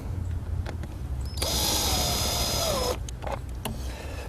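A power drill drives screws to mount an electrical box, one loud whirring burst of about a second and a half with faint handling clicks before and after.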